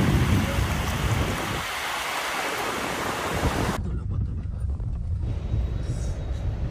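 Sea shore on an outing near Kolaghat with wind and waves, a steady broad roar of surf and gusting wind throughout, loud and close, with a sudden change in wind noise partway through.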